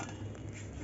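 A small spoon works a sweet puffed-rice mixture around a pan, giving a steady run of soft metallic scrapes and light clinks, close and continuous with no voices.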